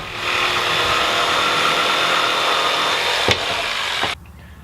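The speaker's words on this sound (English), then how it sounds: "cut it off with a jigsaw" A jigsaw cuts through a wooden step stool piece with a loud, steady buzzing rasp close by, a sharp knock near the end, then the motor cuts out abruptly.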